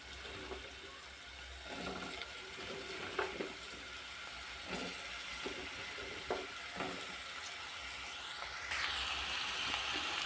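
Ridge gourd pieces fry in a pan with ginger paste and turmeric, a steady low sizzle broken by several scraping stirs of a spatula; the frying grows slightly louder near the end, with no talking.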